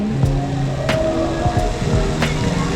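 Steady rain patters over a constant low rumble, with a few soft knocks and faint background voices mixed in.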